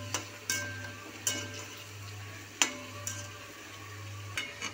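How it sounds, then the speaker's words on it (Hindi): Potatoes frying in ghee for sabudana khichdi, a soft sizzle over a low hum, broken by several sharp spatula scrapes and knocks against the pan at irregular intervals. "इसको हम फ्राई करेंगे जब तक इनका कलर चेंज नहीं हो जाता है।"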